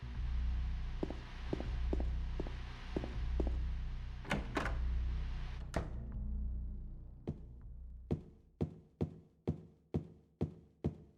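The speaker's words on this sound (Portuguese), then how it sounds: "Eu tenho que destrancar a porta." In Silent Hill 2 on PS2, a door is worked open: a low droning ambience with a few taps, then sharp clunks and a latch, followed by a sequence of evenly spaced, echoing footsteps or knocks fading in a quiet space.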